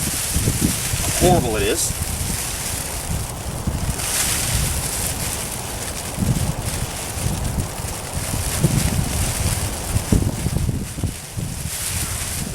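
Strong outdoor wind gusts buffet the microphone in a steady broadband roar that swells and eases, while a person talks over it at close range.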